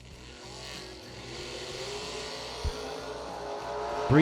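A Mustang drag race car at a million-dollar drag race event, a steady loud engine roar that builds slightly with a brief pop, heard from a distance.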